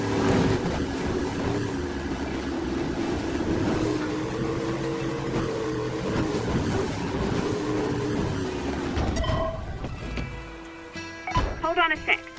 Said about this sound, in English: Just pilot your boat right between them.